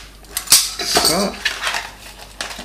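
A Fällkniven knife drops onto the floor, making a sharp metallic clatter with a short ringing bounce, followed by faint handling noises nearby.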